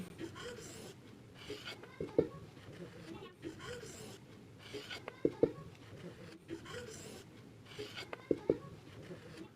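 A pen writes Arabic letters by hand, scratching softly in short strokes and pauses, with someone talking over it.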